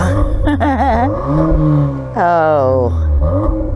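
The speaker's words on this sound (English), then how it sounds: "Start the car up." A Volkswagen Golf R fires up and revs hard through its multiple exhausts, a loud, close engine note rising and falling in pitch with a sharp climb midway, heard alone.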